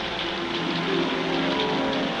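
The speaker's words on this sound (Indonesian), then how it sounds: "Hujan memang sudah mulai berisik di sini badannya." Heavy rain pours steadily in a scene from a P. Ramlee film, a dense, even hiss of drops on surfaces, loud and unbroken with no voices.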